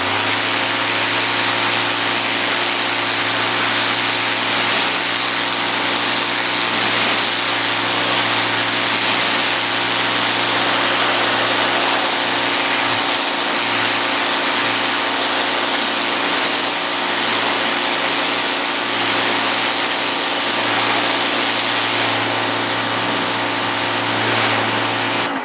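A Ryobi 1800 psi electric pressure washer runs with its turbo nozzle fitted, giving a loud, steady motor whine and hissing water spray that continue unbroken from start to finish with no talking.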